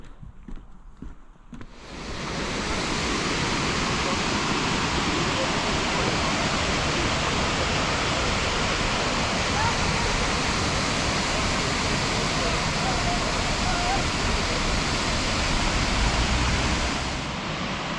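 Hot spring water bubbles and churns at Yellowstone National Park, a loud, steady broadband rush that swells in after a quiet start and holds continuously, with faint voices underneath.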